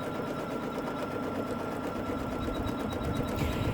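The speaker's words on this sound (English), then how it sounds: "I like to stitch on 500 stitches a minute because I find it is the nicest way to get a great finish" An embroidery machine stitches an in-the-hoop mermaid tail zippered pouch at 500 stitches a minute, giving a steady, continuous mechanical whirr and rattle with no talking.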